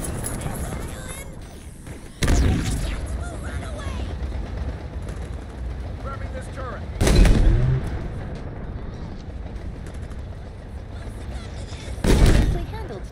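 Grenade explosions in Halo Infinite burst out as three loud, heavy booms spaced several seconds apart over steady battle noise.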